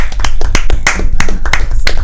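A small group claps loudly and unevenly at close range, sharp hand claps crowding together into a dense burst of applause that lasts about two seconds.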